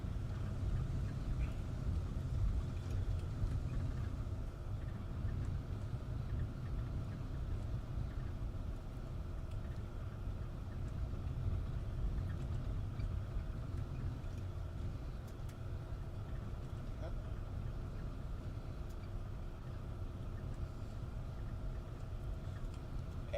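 Steady drone of a propeller aircraft's engine in the War Thunder combat flight game, a continuous even hum holding at moderate level with no breaks throughout.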